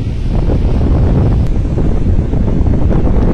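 Strong wind of about 30 to 40 knots roars steadily against the microphone at Bakauheni port, a loud, constant buffeting rush with a low rumble and no pauses.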